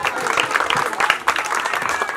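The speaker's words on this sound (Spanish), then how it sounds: "Un aplauso para todos." Audience applause for the children at a parish school visit, dense overlapping clapping from a nearby crowd that stays steady and full throughout, with no talking over it.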